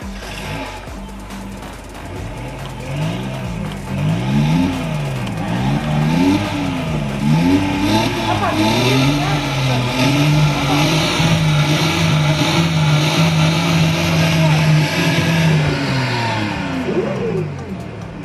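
A Porsche 911 2.0 Coupe engine revs up and down through several rising and falling sweeps, then holds a steady drone, loud and slightly boxy, played through a speaker.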